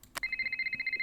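A phone rings in the Nancy Drew game Shadow at the Water's Edge: after a short click, a steady electronic trill pulses rapidly and evenly, fairly quiet and alone.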